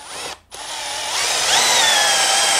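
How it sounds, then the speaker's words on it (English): A drill running at low speed drives a sheet metal cutting attachment through 16 gauge steel, giving a steady loud whirring grind that rises in pitch partway through after a brief dip at the start. "And then you just stick your drill in low speed and let her rip."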